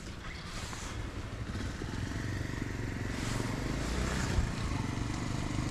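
Motorcycle ridden through a curve on a training range, its engine humming steadily at moderate distance and swelling slightly as it approaches, with faint clatter and outdoor ambience.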